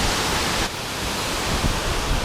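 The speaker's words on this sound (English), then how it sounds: "Beautiful waterfalls." A waterfall along the Golden Staircase on the John Muir Trail roars as a steady, dense rush of broadband water noise, loud and close, with no voices.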